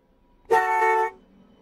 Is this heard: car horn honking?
yes